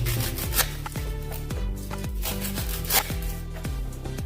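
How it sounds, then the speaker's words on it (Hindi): A knife chops onions on a board in quick repeated thuds, roughly two or three strokes per second, close and clear with no voices. "स्टफिंग के लिए मैंने 2 प्याज लिया है, इसको काटेंगे"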